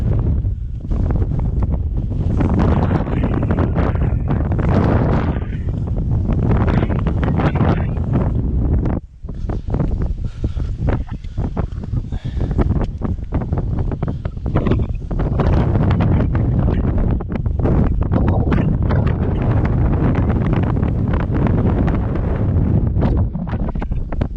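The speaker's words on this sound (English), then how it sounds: "It's cold up here, very windy." Strong, cold wind on Sugarloaf Mountain roars and buffets the microphone continuously, a loud rushing noise that surges and dips without pause.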